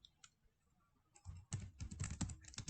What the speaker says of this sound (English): all you need to do is go to Google and simply type